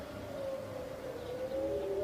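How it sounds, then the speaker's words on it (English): Air raid sirens wail over Tel Aviv, a steady, faint, distant tone drifting slightly in pitch with no voices present. "You hear the sirens? Here they go."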